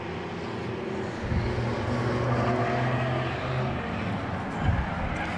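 Race cars roaring past during an 8-lap heat race at Claremont Motorsports Park, a steady engine drone with a couple of louder passes swelling up, heard from the grandstand with faint commentary underneath.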